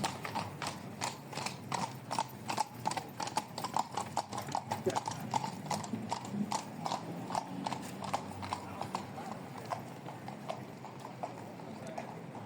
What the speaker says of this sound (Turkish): Atlar gəlir üstündən də.